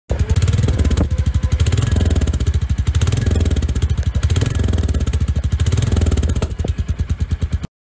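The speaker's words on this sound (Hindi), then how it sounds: "इसका मैं आप लोगों को एग्जॉस्ट साउंड सुना देता हूँ" A matt black Royal Enfield Meteor 350 motorcycle runs just after starting, its exhaust thumping in a steady, rapid rhythm up close and loud for several seconds.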